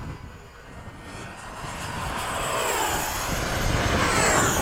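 F-5 jets making a fast formation takeoff run down the runway, a loud building jet roar that swells steadily and grows louder toward the end, with no voices over it.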